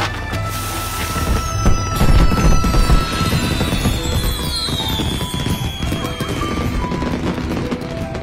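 Fireworks set off across a walled city in a period drama scene, a dense continuous crackle of rapid bursts with whistling rising streaks, loud and sustained throughout with no talk.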